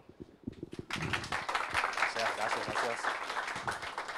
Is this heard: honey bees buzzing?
no